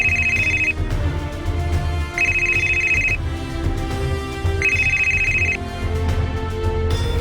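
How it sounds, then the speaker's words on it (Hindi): A mobile phone rings with an incoming call from an unknown number, playing a repeating electronic ringtone in three evenly spaced bursts over a steady musical background, with no one speaking. "मेरे मोबाइल पे एक अननोन नंबर से कॉल आई"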